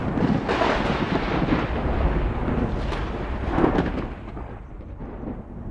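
Deep thunder rolls and rumbles through a storm, a loud, continuous broadband roar that swells in several surges before slowly easing off toward the end, with no voices.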